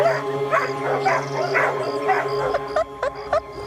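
Dogs at a prison K-9 unit whimper and yip close by with short bursts of sound, while a low hum runs underneath and a few sharp yelps break off near the end.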